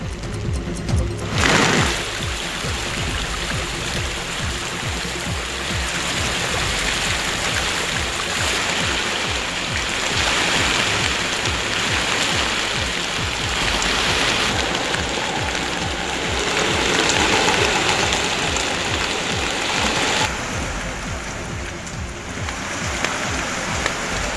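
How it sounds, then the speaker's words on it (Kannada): Heavy rain falls on flooded roads in Yadgir district, Karnataka. It makes a continuous loud rushing wash of water that holds steady throughout. "ನಿರಂತರವಾಗಿ ಮಳೆ ಸುರಿತಾ ಇರೋದ್ರಿಂದ ರಸ್ತೆಗಳಲ್ಲೆಲ್ಲ ನೀರು ತುಂಬಿದೆ"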